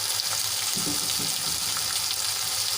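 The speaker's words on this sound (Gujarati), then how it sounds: "આ રીતે આપણે ટમેટાને એડ કરી લેવાના છે" Tomatoes sizzle and fry in a pan for tomato chutney, a steady, close hiss with a few soft stirring bumps and no voices.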